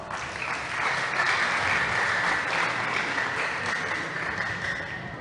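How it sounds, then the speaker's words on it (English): Audience applause at a school English debate, a steady wash of many hands clapping that swells, holds loudly for several seconds and then slowly thins out, with no talking over it. "please give them a round of applause."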